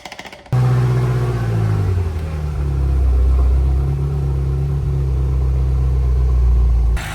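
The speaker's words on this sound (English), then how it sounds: "Okay, the car's been running for about 20 minutes." A BMW M5 engine idles steadily after a rebuild, a loud, close, continuous low rumble starting abruptly just after the first half-second and holding even with faint fluctuations to the end, no talking over it.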